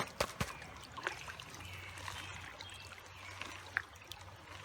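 A gold pan is worked in stream water, with soft sloshing, trickling and a few light taps and knocks against gravel, faint and close, under a gentle flow.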